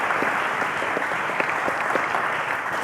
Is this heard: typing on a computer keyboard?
no